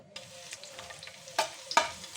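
A few garlic cloves drop into a small amount of hot oil and sizzle softly, broken by two sharper crackling bursts near the end, with no one talking.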